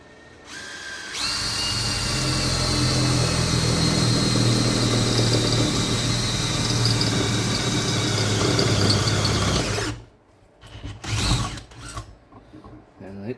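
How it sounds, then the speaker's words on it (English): A 5/16 drill bit bores holes during an LSA supercharger install on a 5th-gen Camaro SS, a steady loud whine running about nine seconds before stopping, followed by brief handling clatter. "I start out with a 5/16 drill bit."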